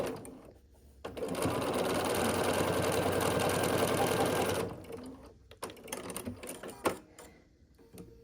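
A sewing machine stitching quilt pieces for a scrappy sampler quilt with a quarter-inch seam: one close, steady whirring run of about three and a half seconds, with quiet handling noises before and after.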